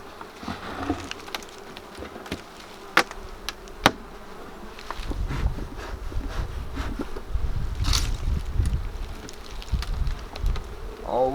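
Honey bees buzzing in an opened farm hive during an inspection, a steady close swarm drone with individual bees zipping past, plus occasional knocks and scraping of hive parts growing louder toward the end.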